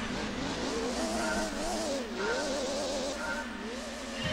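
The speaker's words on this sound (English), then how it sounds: "Yeah, you hear that? That's the sound of pure Japanese horsepower." A turbocharged VTEC Honda Civic engine in Gran Turismo 2 drones steadily through the game's audio, its pitch rising and falling as the car accelerates and shifts, at a moderate level under background hiss.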